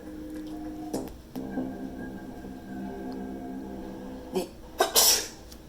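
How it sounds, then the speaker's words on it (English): A single sharp sneeze bursts out near the end, preceded by a few faint breathy sounds and short clicks over a quiet hum. "You see how far that sneeze goes?"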